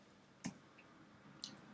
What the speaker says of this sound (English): I'm just doing that, by the way, by just pressing the numbers on my keyboard here.